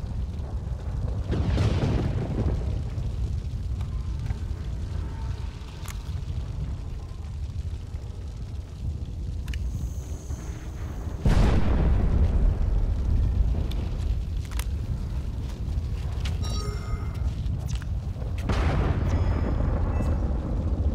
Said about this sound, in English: this is sadly the only time you ever get to use the rocket launcher